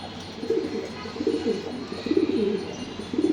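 Racing pigeons, males and females, coo softly and repeatedly close by in low, rolling murmurs over faint background noise.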